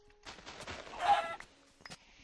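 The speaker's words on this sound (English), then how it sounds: "Oh, chicken!" A chicken in the Minecraft video game clucks in a few short, faint bursts amid quiet game sounds, with a brief sharp hit near the end.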